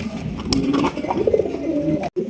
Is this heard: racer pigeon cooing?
yes